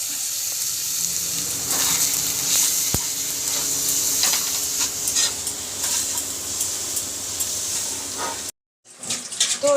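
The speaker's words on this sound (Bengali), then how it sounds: "এখানে বাসন জমেছিল, সেগুলো আমি মেজে ধুয়ে নিচ্ছি" Dishes being scrubbed and rinsed under a running kitchen tap in a home kitchen, a steady close hiss of water with scattered clinks of utensils, ending in a brief silence before the water resumes.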